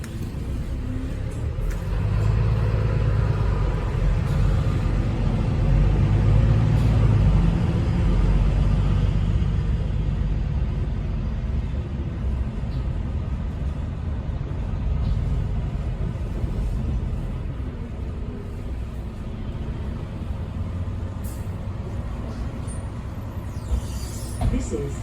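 Interior of a Mercedes-Benz Citaro bus on service 85 approaching Newcastle: a continuous low engine and road rumble that swells and eases as it drives, with no talk.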